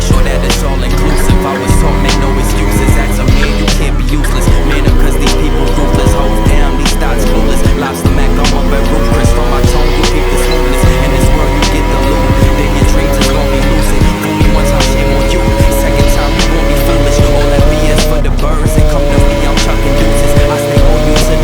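A Simson moped engine revs loud and continuously during wheelies, its buzzing pitch rising and falling with throttle and a few brief dips, close to the rider.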